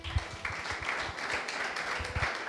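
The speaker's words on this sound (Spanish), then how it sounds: "Ok, pueden aplaudir al Señor" A church congregation claps during a worship service, a steady wash of applause with scattered sharper hand claps running throughout, fairly close and continuous.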